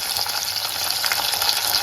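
Tomato pieces fry in a hot pan for mango prawn curry, giving a close, steady hiss and crackle with no talking.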